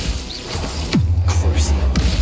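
An Expelliarmus spell cast in Hogwarts Legacy swoops in with a sharp sweeping whoosh and a low magical boom, followed by a rumbling hum and pulsing effects; a brief vocal burst may sit under the game sounds.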